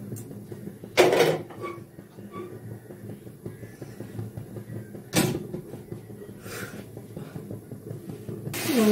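A kadai pan set down on a stove for cooking meat, giving a few sharp metallic knocks and clanks spaced several seconds apart over a quiet kitchen background, no talking.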